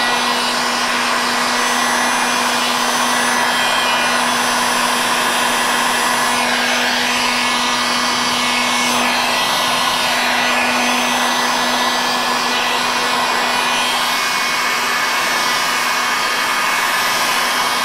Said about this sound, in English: As I run the heat gun over the top of it, it heats up all of the epoxy and makes it more viscous